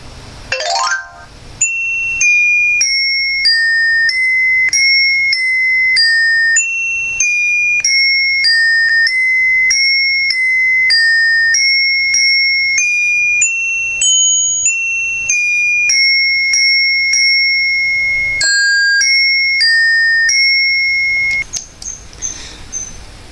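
A xylophone played by a Dash robot taps out a slow melody, one clear struck note at a time, ringing briefly, with no voices.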